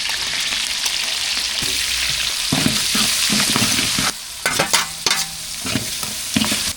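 Hot oil sizzles and crackles steadily as mustard seeds and urad dal splutter and pop in a tempering, with occasional stirring clatter, close and fairly loud.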